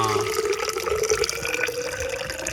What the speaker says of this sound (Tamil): தண்ணி எடுத்து உள்ள ஊற்றுறாப்புல,